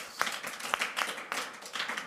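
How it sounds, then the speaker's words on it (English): Audience applause after a presentation, a steady patter of many hands clapping at moderate volume with no voices on top. "big applause"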